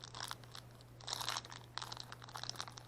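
A small plastic toy packaging bag is opened up close, with soft crinkling and tearing in irregular bursts over a low steady hum, fairly quiet overall.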